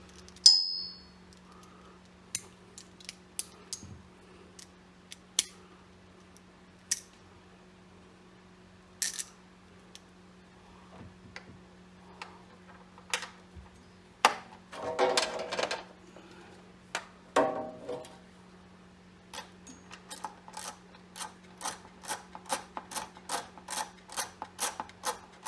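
A ratchet loosens studs on a Generac XP8000E generator: sparse, sharp metallic clicks scattered through a quiet workspace, building into quick rapid ratcheting runs near the end.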